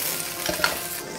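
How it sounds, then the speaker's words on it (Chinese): Pork belly with ginger and scallion stir-frying in a wok gives a steady, close sizzle with a brief scrape of stirring partway through. "姜葱五花肉下锅继续煸炒"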